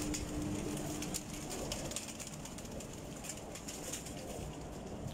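Pigeons of assorted breeds at a bird gathering coo softly in the background, low murmuring calls under a dense bed of chirping and ambient noise, with no voices.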